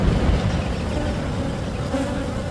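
Honeybees buzz steadily throughout an open beehive inspection, a dense continuous swarm drone filling the air at close range with no voices.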